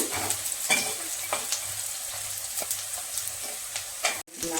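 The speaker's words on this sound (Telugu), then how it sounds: "ఎర్రగా వేయించుకున్న తర్వాత అల్లం పేస్ట్ వేసుకొని బాగా ఫ్రై చేసుకోవాలి." Ginger paste fries with browned onions in a pan, a constant hiss of sizzling oil broken by repeated spoon scrapes and taps as it is stirred, close and clear with no voices.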